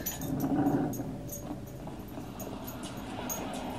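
A dog growls and whimpers close by while tugging at a toy, a low rumbling growl that fades after the first second, with no talking.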